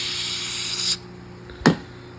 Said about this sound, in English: Spray down in here.